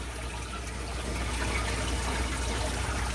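Water rushes steadily through the pipes of a plywood aquarium under test, a soft continuous hiss and trickle at low level with no talking.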